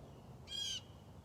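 A lone bird gives one short, bright call, standing clearly above a quiet low hum of background noise.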